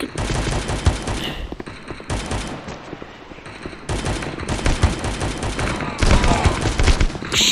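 Dense gunfire in the mobile shooter Guns of Boom, with rapid automatic bursts and repeated shots filling the whole stretch, loud and continuous with short gaps between volleys.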